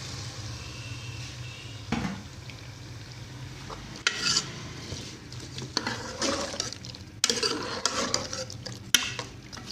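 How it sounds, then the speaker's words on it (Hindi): Cut potatoes tipped into a pan of masala for aloo gosht and stirred, bringing scraping spoon strokes and clatter against the pot over a low, steady sizzle. "अब वो हम आलू इसके अंदर ऐड कर देंगे"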